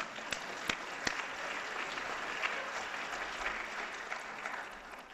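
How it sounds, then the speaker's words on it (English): An audience at a talk on chlamydia prevention gives a sustained round of applause, an even wash of many hands clapping at moderate volume with a few sharper individual claps standing out. "So I really want to all of us to give him a round of applause"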